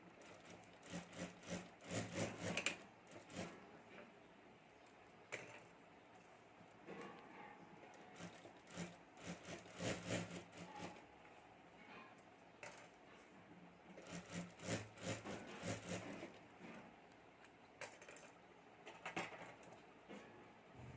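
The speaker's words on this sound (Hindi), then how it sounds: "यहाँ मैं दोनों साइड सिलाई कर देता हूँ" Both sides of a homemade fabric luggage bag are stitched on a sewing machine, which runs in rapid clattering bursts separated by short pauses, quiet and close.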